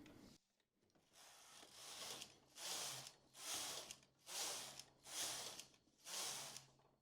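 A double-bed knitting machine carriage is pushed back and forth over several rows in a steady rhythm. Each pass gives a rushing, scraping swish of about a second, followed by a brief pause. The sound is close and quiet, with no talking.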